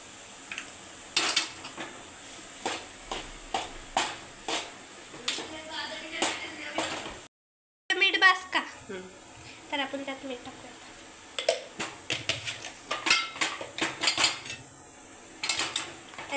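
Spoon clinking and scraping as a grated potato patty mixture with turmeric is stirred in a pan, a steady run of close metallic knocks broken by a brief gap, with people talking over it.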